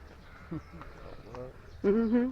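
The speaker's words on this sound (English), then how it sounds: "I saw a goat up there." A goat bleats near the end with a loud, wavering cry, following faint background chatter and ambient noise, in Dakar, Senegal.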